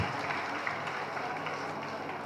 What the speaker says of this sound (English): we can give a big round of applause for all the certificate winners and award